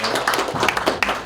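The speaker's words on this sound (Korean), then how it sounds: "큰 박수로" Dense, continuous applause from a forum audience in a hall, many hands clapping at once in a bright, steady wash.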